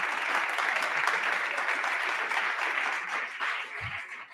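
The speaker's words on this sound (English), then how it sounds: "So how about all the people here in person give a clap?" A small in-person crowd at an annual meeting claps together, a soft, fairly distant patter of hands that holds steady and then tapers toward the end.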